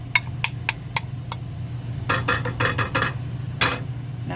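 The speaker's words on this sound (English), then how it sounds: "We're going to add that back into the pan." Cooked sausage goes back into a pan for scratch-made gravy, producing a series of sharp metallic clinks and scraping stirs, loud and close, with a brief cluster of clatter midway.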